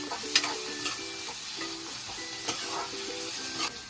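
Curry leaves frying in a pan for an egg curry, giving a steady soft sizzle with light stirring clinks and a few sharp crackles, close and moderately quiet with no talking.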